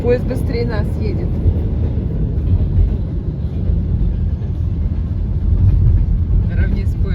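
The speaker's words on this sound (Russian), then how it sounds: "Но поезд быстрее нас едет." A train running alongside a moving car near Syktyvkar in the Komi Republic, heard from inside the car as a loud, steady rumbling roar that lasts throughout, with voices talking over it.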